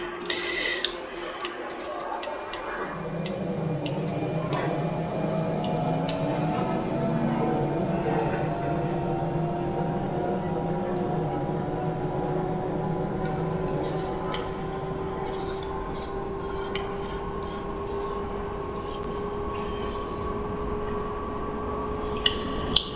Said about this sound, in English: this train is classed in Germany here as the Bombardier Talent 2